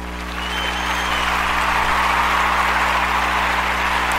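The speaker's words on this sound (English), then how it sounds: "let's give the Lord a clap offering" A church congregation claps in applause at a Tuesday worship service, a dense, steady wash of many hands that swells in quickly and holds for several seconds.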